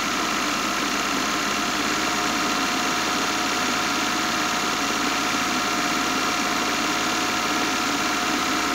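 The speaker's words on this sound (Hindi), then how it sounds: "ये देखिए इसके आइडलिंग को आप थोड़ा सा बढ़ा दीजिए तो बैटरी और अच्छे से चार्ज हो जाएगा" A car engine idles steadily at a slightly raised idle speed, a loud, continuous, even hum with a faint vibrating texture and no talking.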